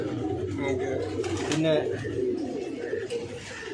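Pigeons coo softly and repeatedly in a loft over a low background murmur while someone speaks a word nearby.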